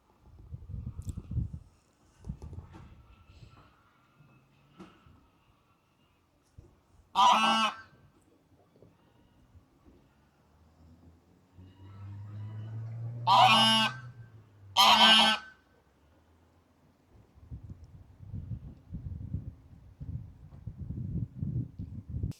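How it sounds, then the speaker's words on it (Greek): Geese and ducks gathered near the harbour at Georgioupoli, Crete, let out loud honks in a few separate bursts, with a low rumble under them and quieter background noise in between. "Έχει πάρα πολλές πάπιες χήνες εδώ."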